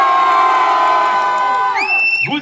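Audience at a cosplay contest convention cheering and shouting, a dense, loud wash of voices that holds steady before rising whoops near the end.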